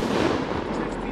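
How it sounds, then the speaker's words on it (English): Pro 4 Gold single shot fireworks in a July 4th backyard show give a loud, dense crackling roar of bursts that fills the whole short moment, close and sustained rather than a single clean bang. "Those were Pro 4 Gold single shot."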